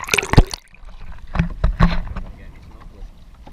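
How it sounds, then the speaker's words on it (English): Kayak paddles dip and splash in open water off the Maldives, with several close splashing strokes spread across a few seconds against quiet surroundings. "Well, this is us kayaking."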